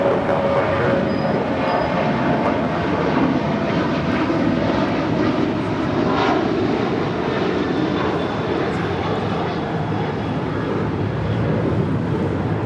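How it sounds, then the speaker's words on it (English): An Alaska Airlines Boeing 737-900ER roars steadily during takeoff at LAX, a loud, continuous jet engine rumble with no break. "This is Alaska Airlines Flight 1127 departing to Portland on a 737-900 ER."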